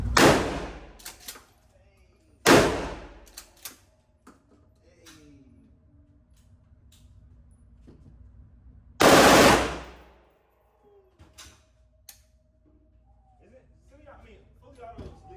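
A full-auto rental gun fires at a shooting range in three short, loud bursts spread over the stretch, with quieter gaps, faint ambient range noise and people talking between bursts.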